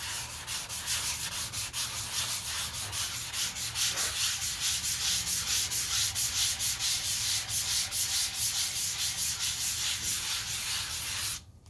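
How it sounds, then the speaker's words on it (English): Steady, continuous sanding of a Superconductor guitar body, a rough rhythmic rubbing that pulses back and forth at close range without pause for the whole stretch. "Today is the day I get to start sanding."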